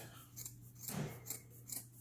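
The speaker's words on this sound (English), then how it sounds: "take your scissors and just cut right above the stitch line" Scissors cut through the fabric lining of a handmade purse, just above the stitch line, with a run of quick, soft rhythmic snips. The cutting is close and faint, with no speech.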